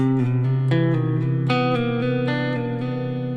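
An electric guitar chord rings out, its notes sustaining while repeated picked notes and hammer-ons sound over the top in a quick rhythm.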